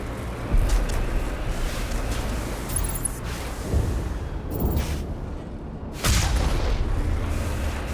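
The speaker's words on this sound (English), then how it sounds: "I hear firing." Gunfire and heavy booming blasts in Mass Effect, with several loud impacts scattered through a continuous rumbling battle din, including sharp bursts around the middle and a strong hit near the end.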